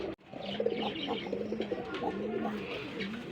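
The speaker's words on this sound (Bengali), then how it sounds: "এখানে একজোড়া লাল গোল্লা কবুতর আছে" A pair of red Golla pigeons coos steadily at close range, overlapping low throaty calls rolling on without pause, with faint chirps and a brief flutter of wings in the loft.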